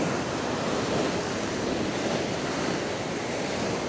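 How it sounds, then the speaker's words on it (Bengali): Large ocean waves crash on Shankarpur beach near Digha in a steady, loud roar of surf mixed with buffeting wind noise, with no voices. "অনেক বড় বড় ঢেউ, এত বড় বড় ঢেউ"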